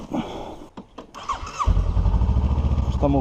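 A cold motorcycle engine cranks and then catches, settling into a loud, steady idle, with a voice and some rustling heard just before it fires.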